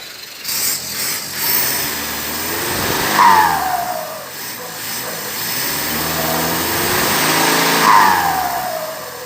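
Yanmar engine fitted with a turbocharger running loud and close, rumbling with rising revs and a whistling turbo spool that climbs and falls twice, no voices.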